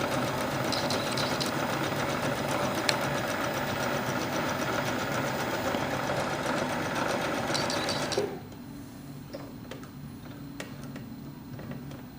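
A sewing machine stitches along the edges of a bag, a close, steady rapid whir and needle rattle running for about eight seconds before stopping, leaving faint handling sounds.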